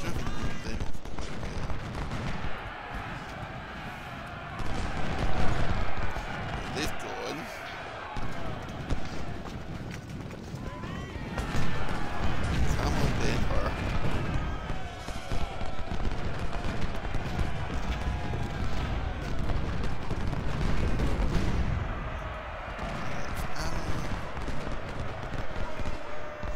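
Ultimate General: Civil War battle at Cross Keys with artillery and musket fire, a dense continuous rumble of volleys, booms and crackling shots, steady and loud throughout, with someone talking over it at times.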